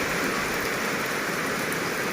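Steady, dense rain falling on a surface, a continuous hiss with fine pattering and no breaks, close and fairly loud, with no voices.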